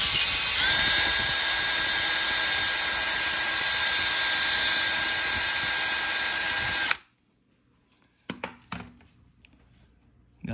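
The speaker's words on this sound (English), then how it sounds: "So next we will go to a little bigger size drill bit." A power drill with a larger bit bores a hole through a leather belt, giving a loud, steady high whine for about seven seconds. It then cuts off abruptly and is followed by a few faint clicks and handling knocks.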